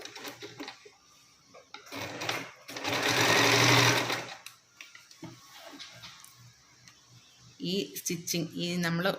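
Sewing machine stitching fabric for a full-circle umbrella frock, a loud steady whirring burst in the middle, with shorter runs and softer handling noises before and after, and brief talk near the end.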